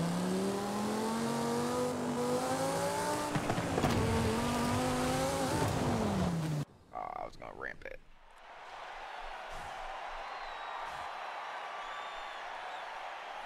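A Porsche race car in a video game roars with a revving engine, its pitch sweeping up and down, then cuts to quieter game sounds with brief squeals and a steady hiss. A voice talks over it.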